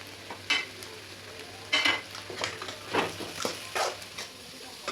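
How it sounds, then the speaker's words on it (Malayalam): A spoon stirs tomato, turmeric and garam masala with half-cooked potato in a frying pan, giving soft sizzling with irregular scraping strokes and bursts of clatter against the pan. "നമ്മുടെ മുളക് പൊടിയുടെ പച്ചമണം മാറുന്ന വരെ ഇളക്കിയിട്ടുണ്ട്"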